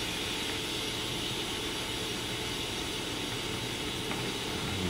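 An old American model steam engine with a hardwood base hisses steam in a constant, dense, even rush that stays steady throughout, with no voices.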